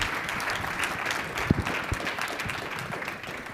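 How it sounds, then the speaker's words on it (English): An audience applauds a guest speaker, Mitch Kider, after a business talk on compliance pitfalls; steady, dense clapping from a crowd fills the room throughout, with a couple of louder individual claps standing out near the middle. "So let's give Mitch a huge round of applause"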